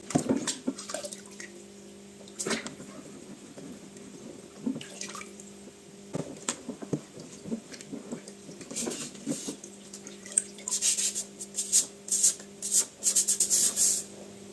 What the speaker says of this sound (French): je vais y nettoyer avec mes mains en frottant aussi. Et c'est de l'eau chaude qui va.